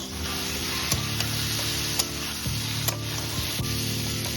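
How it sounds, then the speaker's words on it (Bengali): Fried potatoes stirred into a curry base sizzle steadily in the pan, while a spatula scrapes and knocks against the pan every second or so, close and prominent over a constant low hum. "ভাজা আলুটা দিয়ে দিলাম দিয়ে আবার একটু কষাবো"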